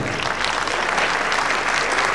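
An audience claps steadily to welcome spiritual speaker Morari Bapu to the stage at a Ruhani Sangam event, a dense, even wash of applause with no break.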